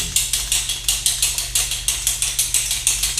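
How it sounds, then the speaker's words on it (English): A pepper grinder cranks pepper over a meatloaf in a close, loud string of evenly spaced gritty crunching clicks, about four per second, with no talk. "now I'm going to grind some pepper over it"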